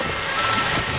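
Steady heavy rain hisses broadly while a vehicle drives through a flooded area, a continuous wash of noise with no talk.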